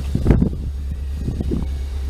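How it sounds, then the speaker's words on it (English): Wind gusting outdoors on a windy day, a steady low rumble buffeting the microphone with brief louder rustles, no voices. "it's quite a windy day actually out here at the moment"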